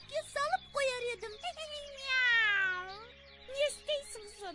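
A cartoon cat from the Kazakh animation Maqta Qyz gives a series of voiced, drawn-out meows with sliding pitch, one long wavering cry in the middle, close and clear.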